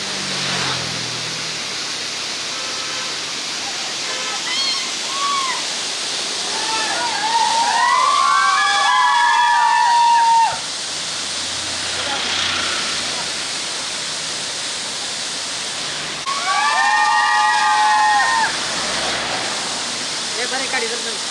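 A waterfall along the Chorla Ghat road in the Western Ghats rushes in a steady, broadband roar throughout, with sharp whistle-like tones cutting in over it twice.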